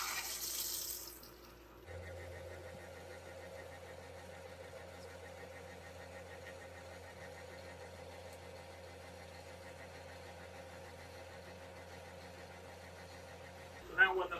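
Water runs steadily through hot tub plumbing after the pump shuts off, a continuous low rushing flow that carries on for many seconds, with brief louder noises at the start and end.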